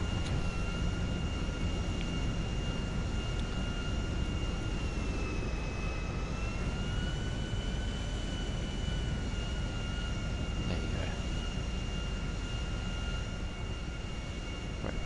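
Steady, continuous drone of the Alkonost aircraft's engines in a PS4 video game, a sustained hum with faint high whine tones that shift slightly in pitch midway, heard alone without talk.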